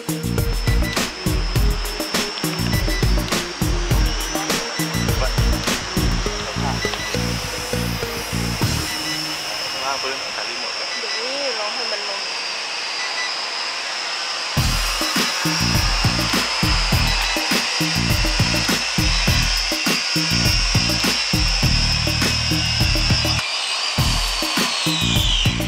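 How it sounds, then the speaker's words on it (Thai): A small GPS quadcopter drone, the Fx176, flies back to its takeoff point on automatic return, its motors a steady high whine mixed with rough buzzing and rattling close to the microphone, fading partly in the middle. "เขาได้ทำการบินกลับมาณจุดตรงที่ผมขึ้นตรงนี้เลยนะฮะแทบจะไม่คาดเคลื่อนมากนะครับ"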